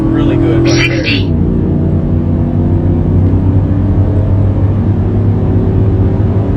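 A stock SCSB 5.3 V8 with a six-speed transmission accelerates hard down a quarter-mile strip, a loud steady engine drone climbing through the gears with a brief tire spin, a voice talking over it.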